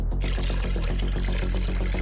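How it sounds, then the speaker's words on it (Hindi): Water is poured steadily into a pot, giving a continuous splashing, gurgling stream that stays loud and even throughout with no voices. "इस पॉट में पानी डालेंगे।"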